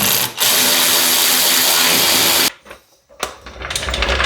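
A power tool tightens fasteners on a Ford Bronco Sport Badlands during an oil and filter change, a loud continuous whir for about two seconds, then a pause and a rising second burst.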